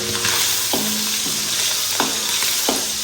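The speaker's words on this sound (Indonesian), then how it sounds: "si cumi udah matang, cuma digini aja goreng doang" Squid frying in hot oil in a home kitchen, a continuous close sizzle with repeated stirring scrapes of a utensil against the pan at a steady rhythm.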